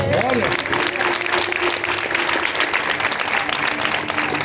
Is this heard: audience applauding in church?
yes